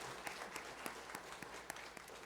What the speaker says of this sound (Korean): 다시 한번 큰 박수로 한번 영광 올려드리겠습니다